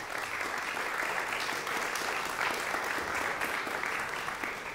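A concert audience at a new-music ensemble performance applauds to welcome a composer, full and sustained clapping from a large crowd, steady throughout with no voices above it.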